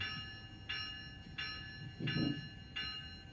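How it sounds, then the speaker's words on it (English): A GO Train passes very close at Aldershot, its cars rumbling by with four regular clacks as wheels cross rail joints, fairly quiet overall and with no voices. "very close up of the GO Train, Aldershot"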